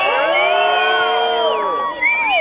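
A live crowd at a rally marking the 50th anniversary of MLK's death cheers, whoops and shouts loudly and continuously, with many voices blending into a dense roar throughout.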